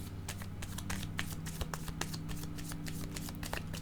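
Tarot cards are shuffled close by in a steady, rapid stream of papery riffles and soft slaps, continuous throughout with no talking.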